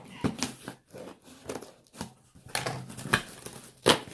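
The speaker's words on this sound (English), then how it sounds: "So I'm gonna use scissors. Get this open." Several short snips and scrapes of scissors cutting into packaging, irregular and close by, with rustling between cuts.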